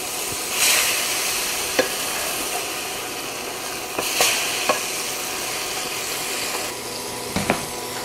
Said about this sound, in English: I'm just going to put these onions in so they can absorb all the excess flavor in the pan.